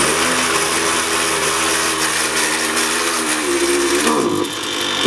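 A Husqvarna 329L string trimmer is pull-started, giving a loud, continuous mechanical rasp and whir close by that drops off sharply near the end.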